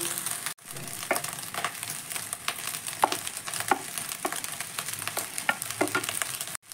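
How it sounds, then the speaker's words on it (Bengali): Rice fried lightly in ghee with pre-fried vegetables for a festive-style fried rice gives a loud, continuous sizzle, with repeated scraping stirs of a spoon through the pan and no voices. "আমি এখানে 2 থেকে 3 বার খুব হালকাভাবে চালটাকে ঘিয়ের সঙ্গে ভেজে নিয়েছি।"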